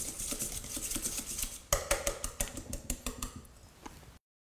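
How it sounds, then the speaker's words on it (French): A whisk beating butter in a bowl until soft: quick, rhythmic metallic ticking and scraping strokes, close and moderately loud, growing sharper midway before stopping abruptly. "À l'aide de notre fouet, nous allons fouetter le beurre pour avoir un beurre pommade"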